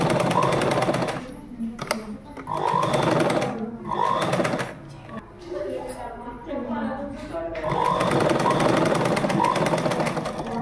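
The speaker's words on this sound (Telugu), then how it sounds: "దీన్ని పెద్ద కుట్టేసేసుకుంటా నార్మల్గా." Sewing machine stitching a jacket hem, fast rhythmic needle chatter in close bursts that stop and start, with someone talking between runs.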